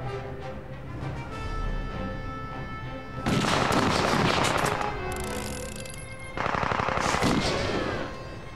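Gunfire in the Indiana Jones and the Staff of Kings video game: bursts of rapid machine-gun shots come in two loud dense volleys between quieter stretches of game ambience.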